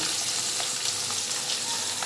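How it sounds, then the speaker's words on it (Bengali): Rohu fish fries in hot oil in a pan, giving a steady, close hiss and crackle of sizzling throughout with no talking. "মাছটা ভাজা হোক"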